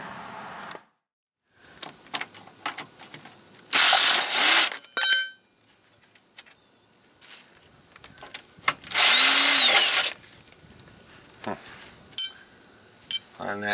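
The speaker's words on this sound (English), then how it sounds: "we're going to loosen that nut up a little bit now and see if we can get that bolt to turn" A car control arm nut on a 2005 Chevy Aveo is worked loose with a power tool, giving several loud bursts of whirring and rattling separated by quieter clinks and metallic handling.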